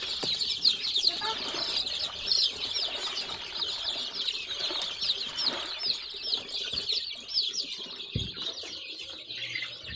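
Chickens at feeding time, a small flock of hens and a rooster, clucking and chirping continuously with bursts of wing flapping and scuffling, fairly close, with faint voices in the background.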